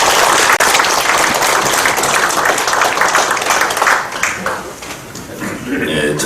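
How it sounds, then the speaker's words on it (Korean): Loud, dense applause from a crowd at a Korean Democratic Party farmers' and fishermen's rally, greeting a party leader at the podium; the clapping holds steady and then thins out slightly toward the end, with some voices in the hall. "힘찬 박수 드리겠습니다"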